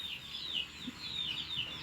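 Chickens on a farm clucking softly in a few repeated calls, faint and close against quiet background noise.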